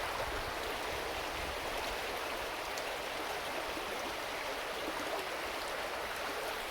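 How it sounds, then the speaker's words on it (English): A river flowing down from the Black Mountains gives a steady, broadband rush of water, constant and fairly even throughout with no voices. "This is the river"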